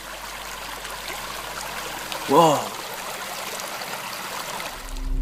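Steady creek water flows and trickles in the dark at a campsite, a continuous near rushing sound, briefly interrupted by a startled exclamation from a person.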